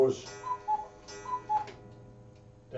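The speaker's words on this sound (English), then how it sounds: "That cuckoo clock told us it was 3 o'clock." Cuckoo clock striking three, its two-note calls repeating in an even rhythm close by indoors, with soft ticking and room noise around the calls.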